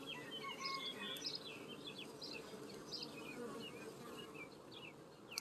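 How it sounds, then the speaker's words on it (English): Honeybees buzzing calmly around a backyard hive, a soft continuous hum heard alone at low volume, with faint bird chirps scattered in the background. "these guys have the nice happy bee sound"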